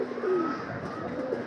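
Pigeons cooing at a racing pigeon loft, soft throaty coos rolling on steadily over a continuous background of nearby birds.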